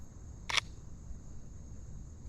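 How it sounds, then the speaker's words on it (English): A camera shutter clicks twice while shooting photos of a car at night. Each click is a crisp, quiet snap, well apart, over a faint steady hiss. "I'm taking multiple shots just to be sure that, you know, we're in focus."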